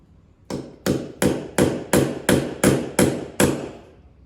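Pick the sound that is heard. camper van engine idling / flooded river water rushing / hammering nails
hammering nails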